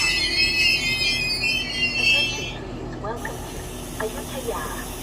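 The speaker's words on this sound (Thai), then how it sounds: "ให้สัญญาณปล่อยขบวนรถด่วนพิเศษที่ 9 นะครับ ออกจากสถานีอยุธยา แล้วนะครับ" Express train number 9 pulling out of Ayutthaya station in Thailand, a broad rumble and hiss of rolling stock with faint squeals and clanks as it eases away, loud at first then settling.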